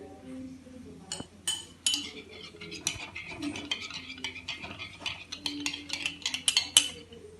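Metal spoon clinking and scraping against a glass jar of honey, a run of bright, quick clinks and scrapes with a soft low hum underneath, fairly close.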